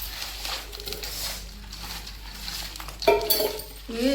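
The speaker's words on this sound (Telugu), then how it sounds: "చక్కగా మొత్తం కలిసినట్టు తిప్పుకున్నాను" A spoon stirs korameenu fish curry in a pan, scraping with soft patter and sharp metallic clinks against the sides, the clatter growing louder near the end.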